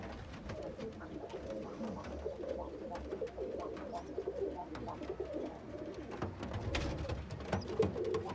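Pigeons in a loft housing young birds coo softly and repeatedly, with low, rolling calls overlapping at close range amid faint shuffling and rustling.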